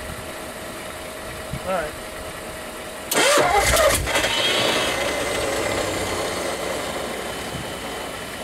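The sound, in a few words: 1959 Ford Custom 300 engine cold start after 46 years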